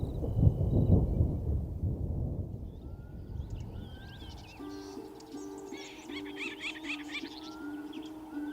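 Low thunder rumbles heavily at first and fades as rain approaches in Tarangire, then birds chirp and call over a quieter background.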